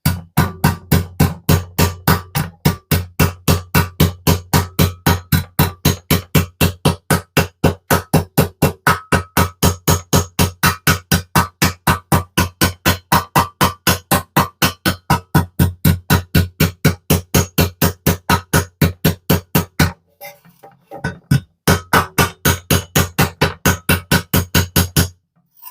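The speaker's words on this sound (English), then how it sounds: "Use the ball end of the hammer." Steady rapid tapping of the ball end of a hammer knocking a low spot out of the metal body of an ERTL A-Team diecast van, close and loud, continuing evenly with a brief pause near the end.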